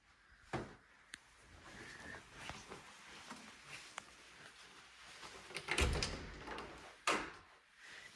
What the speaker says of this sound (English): Closet. Sliding door.